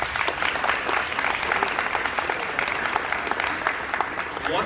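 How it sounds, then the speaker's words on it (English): An audience at a middle school honors ceremony applauds the Falcon of the Week award winners, a steady wash of clapping from many hands over a faint murmur of voices. "If you guys would give them applause."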